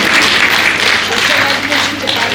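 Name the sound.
audience applause at women's day event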